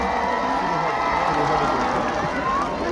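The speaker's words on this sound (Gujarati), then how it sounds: "તાળીઓ થઈ જાય બહુ જ બધી અવાજ સાથે" A crowd at a speech by an actor from the Gujarati film Lalo cheers and claps in a dense, steady roar of noise, loud and sustained throughout.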